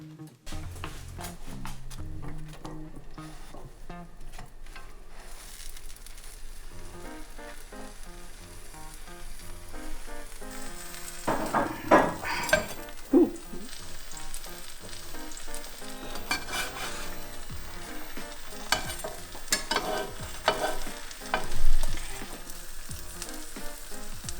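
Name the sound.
grilled cheese sandwich frying slowly in olive oil on low heat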